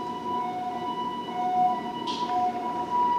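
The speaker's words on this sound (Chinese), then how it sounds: "你记得我们家那个消防车一直轰，然后一直响，响不停" A fire engine siren holds a steady, wailing tone that sounds muffled and distant, over low background hum, with a short higher burst of noise partway through. No speech.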